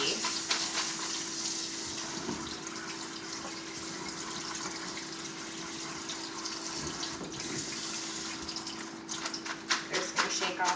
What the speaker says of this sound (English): I'm going to go ahead and rinse the shells that are already pre-cooked and go ahead and drain these.